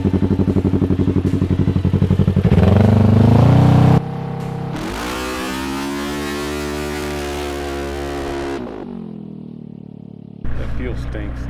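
A turbocharged race car revs hard, then roars off the line in a long, loud, strained surge before the engine drops away and briefly revs again at the end.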